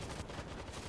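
A turret in the zombie shooter World War Z fires a rapid burst, fast repeated shots packed tightly together, faint and over in about a second.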